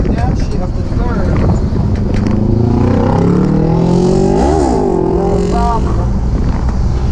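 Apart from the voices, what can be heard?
M-37 Power Wagon engine downshifting into third gear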